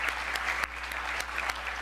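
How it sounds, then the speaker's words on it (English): Audience applause at the close of a Be Smart Be Safe wrap-up session, a steady dense patter of many hands clapping at moderate level with a few sharper claps standing out, no voices over it. "Let's please give a very big applause to all of them"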